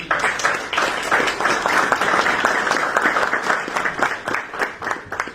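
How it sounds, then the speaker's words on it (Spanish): An audience at a political law seminar applauds a professor, loud and close, a lively mass of clapping with crisp individual hand claps rising and falling across the whole stretch. "Vamos a aplaudir al profesor."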